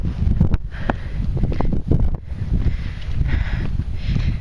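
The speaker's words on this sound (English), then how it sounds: "it's very windy." Strong wind blows across the rock summit of Enchanted Rock in Texas, loud rumbling gusts battering the microphone continuously, with a few brief rustles and knocks close by.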